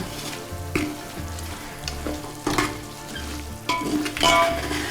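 Mutton masala being mixed and fried in a pan: soft sizzling broken by repeated scraping stirs and a few clinks of a spoon on metal, close and fairly quiet.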